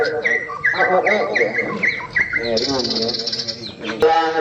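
A bird at a songbird contest calls repeatedly in quick chirping phrases, then gives a higher rapid trill, close and clear, with a voice talking softly underneath.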